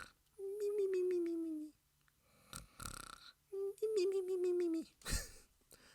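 A sleeping woman snoring in a Switch horror game, two long, slow, drawn-out snores with pauses of breathing between them, close and clear, with a brief rustle or noise in between.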